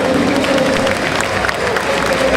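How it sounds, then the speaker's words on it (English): A large indoor audience at the gamescom 2010 trade fair applauds after a live game demo, a steady, dense wash of clapping with some cheering mixed in. "Big applause for Easy Kart Ride."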